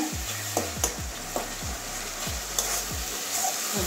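Spice paste fries in oil for a potato, pointed gourd and mushroom curry, a steady loud sizzle under repeated scraping stirs of a spatula at an uneven rhythm.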